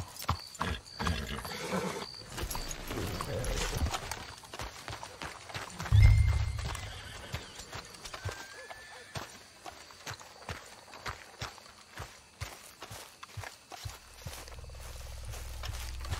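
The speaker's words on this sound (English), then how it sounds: "Let's hitch your horses up ahead." Horses in the Red Dead Redemption 2 video game, with repeated clip-clop hoofbeats at a walking pace through most of the stretch and a brief heavier thump midway; neighing is not clearly distinct.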